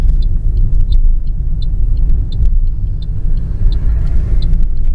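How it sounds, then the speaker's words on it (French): Steady car engine rumble with a regular clicking tick repeating about twice per second, like a turn signal, continuing throughout. "là je vais mettre mon clignotant et je vais le doubler"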